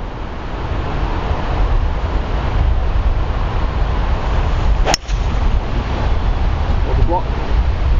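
Steady wind blowing across an open golf course, a constant loud rush buffeting the microphone, broken once by a sharp brief crack midway.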